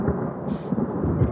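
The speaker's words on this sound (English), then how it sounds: "So it is an additional sound. Sound of thunder." A rumbling thunder sound effect, added as an extra layer in FL Studio 20 to a sad love melody beat, rolls low and dense through a short, continuous stretch.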